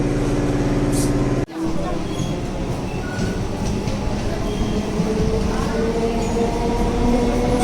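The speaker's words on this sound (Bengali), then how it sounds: "দেখো ওই প্ল্যাটফর্মে ট্রেন ছাড়ছে" A train pulls away from a railway platform with a heavy rolling rumble and faint metallic squeals that build as it moves off, under a busy background with faint voices.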